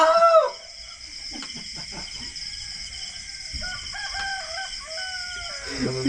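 A rooster crows loudly nearby at the start, followed by softer clucks and bird calls, with faint background noise.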